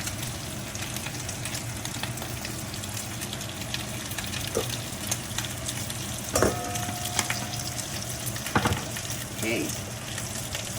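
Bacon fries in a pan for spaghetti carbonara, a steady close crackling sizzle with occasional sharper pops and utensil clicks, and a brief spoken word over it.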